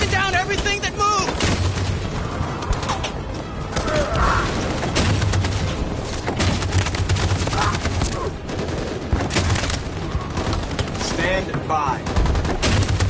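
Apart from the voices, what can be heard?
machine gun fire in the video game Detroit: Become Human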